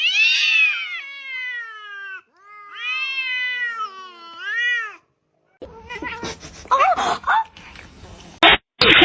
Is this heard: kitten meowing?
yes